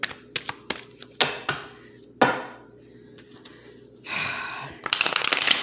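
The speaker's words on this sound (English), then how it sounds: "A couple more shuffles." Tarot cards being shuffled by hand, a run of sharp riffling snaps and flutters, some single and some in quick bursts, close and fairly loud with no talking.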